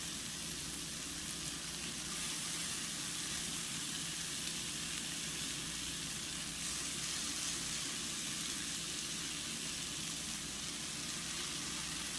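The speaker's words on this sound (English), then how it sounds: "You can add your zoodles to the mixture." Zucchini noodles sizzling loudly in a hot frying pan, a dense continuous hiss and crackle of frying that holds steady throughout with no talking.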